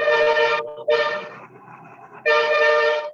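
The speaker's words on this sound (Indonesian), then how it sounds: "Suara klakson truk juga, ya." Loud truck horn honking in three long blasts, the first two separated by a short gap, then a quieter lower-toned stretch before a final sustained blast, with no talk over it.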